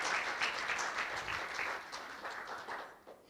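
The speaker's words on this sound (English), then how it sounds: "Please give a round of applause to our finalists." Audience applause for the finalists at a scientific conference, a dense wash of many hands clapping at moderate distance, tapering slightly toward the end.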